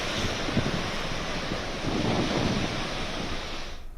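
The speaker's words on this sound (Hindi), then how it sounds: "समुद्र काफ़ी इस वक्त एग्रेसिव वहाँ पर दिखाई दे रहा है" Rough, aggressive sea surf pounding the Mumbai coast at high tide during Cyclone Biparjoy, a loud continuous roar of crashing waves mixed with gusty wind buffeting the microphone, cutting off abruptly at the end.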